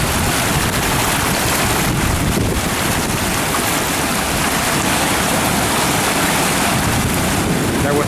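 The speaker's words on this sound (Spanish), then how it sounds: "El agua está buscando pasar por donde pueda." Floodwater rushes past an endangered highway bridge support on Route 11, eroding it; a loud, continuous broadband roar of churning water mixed with wind buffeting the microphone, with no break throughout.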